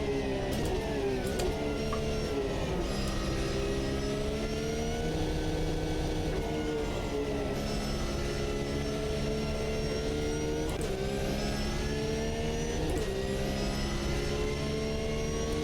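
A GT3 race car engine in the racing game Automobilista 2, a loud continuous drone with the pitch rising and falling through shifts and throttle changes, alone without voices.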